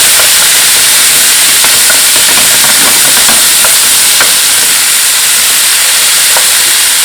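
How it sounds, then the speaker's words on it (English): Onions cook in a pot for Irish stew, producing a loud, constant steamy hiss with faint scattered crackles and ticks throughout. "we're going to put the onions in. And just let those cook a little bit."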